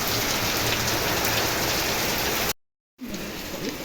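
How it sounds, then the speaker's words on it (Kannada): Heavy rain pouring down in a steady, dense hiss, loud and close, cut by a brief moment of silence before the downpour resumes. "ಫುಲ್ಲು ಮಳೆ ಇವಾಗ"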